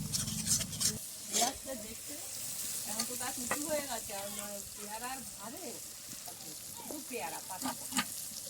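A mustard and poppy seed spice paste with sugar fries in a pan for a sarpunti fish dish, giving a soft, steady sizzle with scraping stirs, while a voice talks over it partway through.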